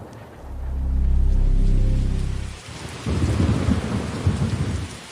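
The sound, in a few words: thunderstorm with rain, hurricane brewing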